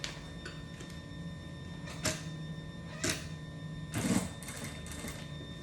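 Sewing machine topstitching fabric for a double cosmetic bag, a faint steady mechanical hum with a few sharper clacks and a brief louder rattling burst near the end, close, with no voices.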